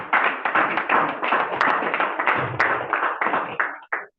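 Audience clapping at a seminar in Abuja: a dense, steady patter of many hands, fairly close and loud, running for about four seconds before tapering off and stopping.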